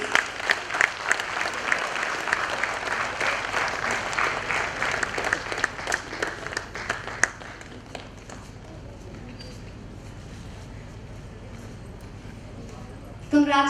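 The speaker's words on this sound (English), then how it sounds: "Let's keep encouraging them with your claps" Sustained audience applause at an International Women's Day event, dense clapping from many hands filling the room for several seconds before fading to a quieter murmur, with a brief burst of sound at the very end.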